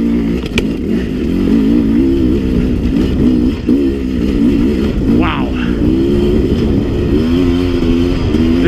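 A Sherco 300 dirt bike climbs a single-track trail hill, its engine droning steadily close by with a rising and falling pitch as the throttle works through the section.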